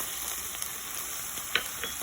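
Ginger paste, turmeric and cumin powder sizzle with nearly cooked onions in a hot pan. A steady, moderate frying hiss is broken by a couple of light stirring clicks.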